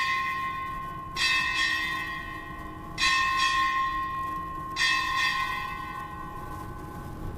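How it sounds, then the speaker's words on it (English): A ship's bell struck at a U.S. Indo-Pacific change of command ceremony, three evenly spaced ringing strikes, each clear and resonant and left to fade before the next, with no voices. "Strike 8 bells."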